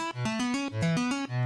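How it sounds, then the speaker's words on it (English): A Reaktor Razor synthesizer plays a quick arpeggio with an artificial, stringy tone, short bright notes stepping up and down in a tight, even rhythm. "It gets really cool artificial stringy sounds like this."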